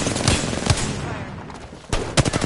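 Video game gunfire in a combat match sounds as a few sharp, heavy shots spaced out over a couple of seconds, loud and close over a rumbling background.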